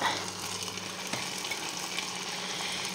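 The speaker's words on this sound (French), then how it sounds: "on les met dans la poêle" Sausages sizzle in a frying pan with a soft, continuous hiss that carries a watery edge and a single faint click partway through.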